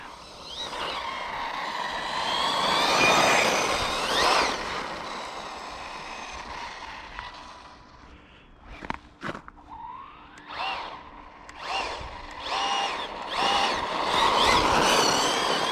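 A Team Corally Spark XB6 RC car on its first run, its electric motor rising to a high whine under full throttle in repeated bursts, with brief pauses and sharp clatters between runs.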